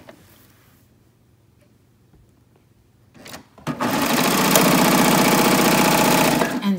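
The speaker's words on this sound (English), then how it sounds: "And serge off." A serger sewing machine serges off a knit neckband on a tie top, starting after a few seconds of quiet handling with faint taps, then running loud and steady with a rapid even whirring stitch for about three seconds.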